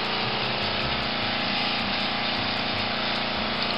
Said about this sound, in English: The neighbor has a stupid pressure washer going